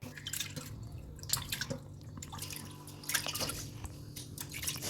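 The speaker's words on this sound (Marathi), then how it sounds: "हा मासा देखील आपल्याला दोन ते तीन वेळेस स्वच्छ धुवून घ्यायचा आहे" Wam eel fish being rinsed in water, with close, irregular drips, splashes and squishy handling sounds, quiet and with no voices.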